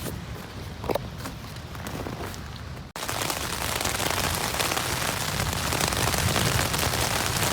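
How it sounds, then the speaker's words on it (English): Rain falling on a small tent at a lakeside backcountry campground during a storm, starting as light scattered drops and then turning after a sharp bump into a steady, close, heavy patter. "Now it's raining."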